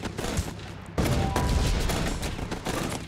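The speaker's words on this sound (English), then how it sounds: "Oh man, they're shooting." Dense, continuous video game gunfire from Guns Up!, a loud fusillade of overlapping shots that swells sharply about a second in and keeps rattling without pause.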